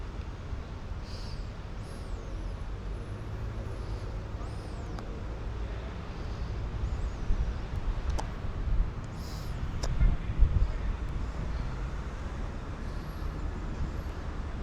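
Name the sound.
trucks and traffic passing through North London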